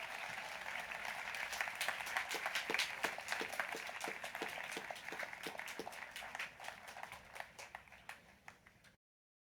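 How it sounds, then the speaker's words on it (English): Audience applause rings out for graduates at a graduation ceremony: sustained clapping at moderate distance, sharp individual claps standing out as it thins and stops near the end. "Give them a round of applause,"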